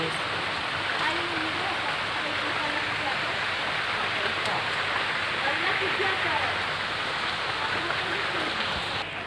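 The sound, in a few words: heavy rain falling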